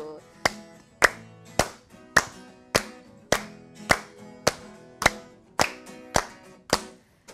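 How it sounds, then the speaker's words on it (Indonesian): Children and parents at a Sunday school worship service clap their hands together in time: about fourteen crisp, close claps in a steady, even rhythm, with little else heard between them. "Oke, yuk tepuk tangan semuanya."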